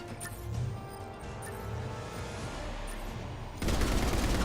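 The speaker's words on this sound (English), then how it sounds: "this Revenant machine gun is just an absolute beast. It eats up ammo so quickly" Revenant machine gun firing in Mass Effect 3, a steady stream of dense automatic fire that runs throughout and grows louder and harsher in the final second, with no talk.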